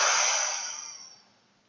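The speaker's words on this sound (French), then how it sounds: "en soufflant fortement par la bouche" One strong, forceful exhale pushed out through the mouth in a relaxation session, a close breathy rush that starts loud and tapers away over just over a second.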